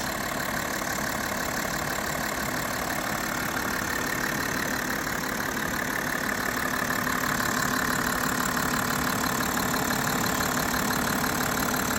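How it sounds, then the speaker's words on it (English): BMW 530d xDrive with a six-cylinder twin-turbo diesel engine idling, a steady close mechanical hum with a faint ticking diesel clatter, unchanging for the full twelve seconds with no talk. "So there's our 6-cylinder twin power turbo."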